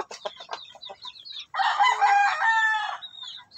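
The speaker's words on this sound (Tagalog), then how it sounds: "So yan yung native na manok natin guys." A native rooster gives a few short clucks, then lets out one loud, close crow lasting about a second and a half, alone with no talk.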